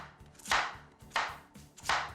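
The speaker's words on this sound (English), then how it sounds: "we have to cut the potato into slices, about 1/2 inch" A kitchen knife slices through peeled potatoes into half-inch slices on a cutting board, three crisp, evenly spaced cuts landing close up with no talk over them.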